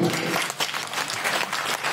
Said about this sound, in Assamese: অখিল ডাঙৰ যোৰকে হাত চাপৰি হ'ব লাগে